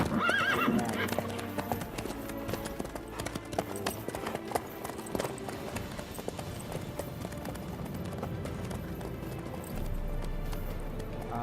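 Horse hooves in The Witcher 3 video game beat out a steady, rapid clip-clop of galloping close by, with a brief whinny near the start and no speech.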